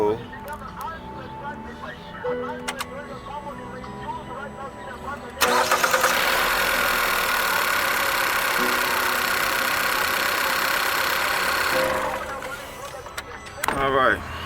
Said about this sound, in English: So now we're going to start the vehicle up and see.